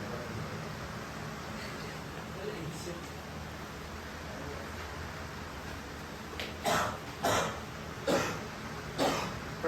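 Four sharp coughs close by in quick succession toward the end, after several seconds of low background hiss.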